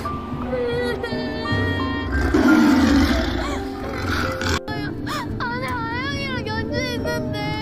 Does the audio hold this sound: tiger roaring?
yes